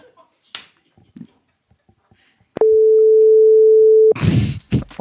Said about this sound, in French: Enchaîné sur le coup de téléphone